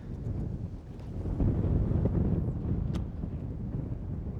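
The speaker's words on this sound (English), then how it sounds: "That wind is just really stiff out here." Strong, gusty wind buffets the microphone on a boat out on Osbourne Bay while muskie fishing, a steady low roar that swells and eases with no one talking.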